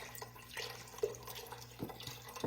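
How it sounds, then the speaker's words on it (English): Chicken broth poured slowly from a box into a pot in a home kitchen, a quiet trickling and splashing with small drips, close and soft. "Trying to pour it slow so it don't splatter so much."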